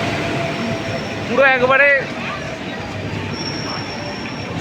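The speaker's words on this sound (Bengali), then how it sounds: "আমাদের ট্রেনের অ্যারাইভাল হচ্ছে, আর আজকে আমাদের ট্রেনের সাথে আছে শিয়ালদা লোকোটেকে WB7 লোকোমোটিভ" An arriving Padatik Express train hauled by a WB7 locomotive from Sealdah loco shed makes a steady rolling rumble, with a brief squealing, wavering tone in the middle and a few spoken words over it.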